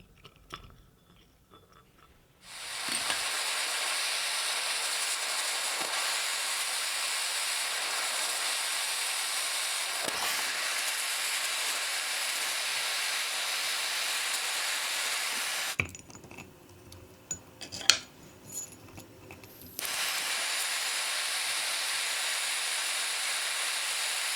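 A small hand torch melts silver scrap into ingots with a steady, loud roaring hiss. It cuts out briefly partway through, leaving faint clinks and handling noises, then resumes.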